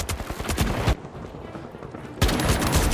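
Gunfire in the video game The Finals, fast automatic bursts close and loud, breaking off briefly for a quieter lull before the rapid shooting resumes.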